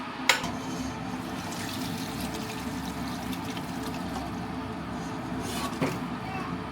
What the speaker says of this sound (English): I still want to add water.